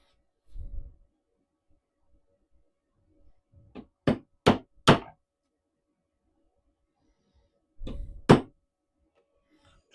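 Hammer blows drive nails into wood in a home shop, a few sharp, loud knocks in quick groups, one near the start, a cluster of three to four midway and a final pair, with quiet gaps between.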